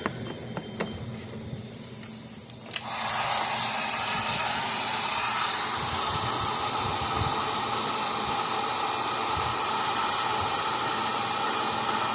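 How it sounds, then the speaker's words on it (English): Heat gun switches on after a few seconds of quiet room tone and then blows a steady, loud airy roar without a break. It is being used for a battery replacement repair on a Gallagher weigh scale. "Let's go ahead, plug the heat gun in."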